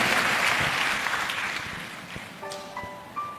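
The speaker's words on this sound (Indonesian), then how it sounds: "Boleh kita kasih tepuk tangan buat nama Yesus yang hadir di tempat ini." A church congregation claps together during a Christmas service, dense applause loud at first and slowly thinning out, with a few scattered claps and a soft sustained tone near the end.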